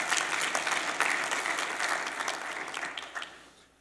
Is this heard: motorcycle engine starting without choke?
no